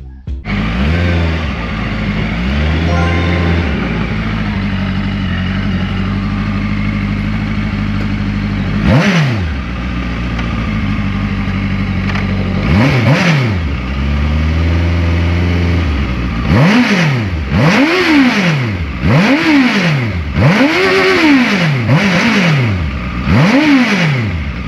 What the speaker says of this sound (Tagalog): yung makina nito mga brothers, tignan nyo, pakinggan nyo ang ating sound check